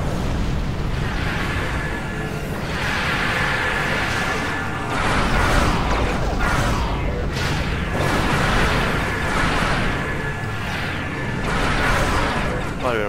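Temporal disruption device firing from a Wells temporal science vessel in Star Trek Online: dense, loud rumbling weapon effects with repeated whooshing surges and booms throughout, with a voice talking over them.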